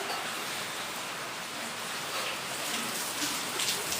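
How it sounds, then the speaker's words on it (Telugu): Heavy rain pours down outdoors as a steady, dense hiss of drops that stays loud and even throughout, with no talking. "చూడండి ఫుల్ వర్షం"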